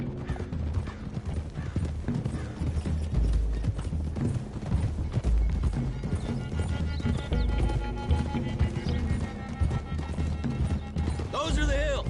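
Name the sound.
horses trotting in Red Dead Redemption 2 video game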